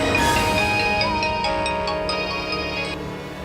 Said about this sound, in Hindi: हेलो राज, थैंक गॉड यार, अच्छा हो तूने फोन कर लिया।